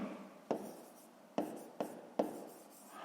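Pen or chalk writing during a fifth-grade math exercise, four sharp tapping strokes spaced unevenly over three seconds, each followed by a short scratchy trail, close and quiet.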